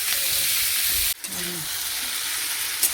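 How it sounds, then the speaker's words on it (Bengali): Chopped vegetables fry in a hot pan with a steady, close sizzle that briefly cuts out near the middle and then resumes more softly, with a small clink near the end and no voices. "সবজিটা একটু ভাজা হোক"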